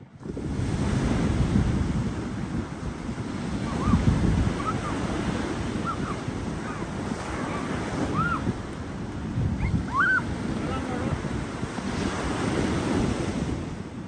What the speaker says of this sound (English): All windy, look at that. Surf.